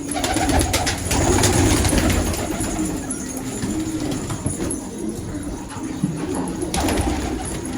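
Mürekkep pigeons coo nearby in low, rolling, repeated calls, with a few faint rustles and flutters in the background.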